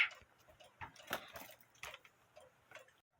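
A Schmeckenbecher cuckoo quail clock with a count wheel movement ticks close and clear, a quiet, regular series of sharp clicks.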